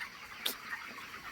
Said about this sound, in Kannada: ನೋಡಿ ಸ್ನೇಹಿತರೆ, ಕೋಳಿಗಳು